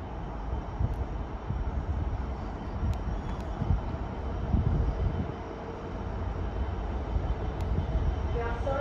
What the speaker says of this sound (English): here comes another freight train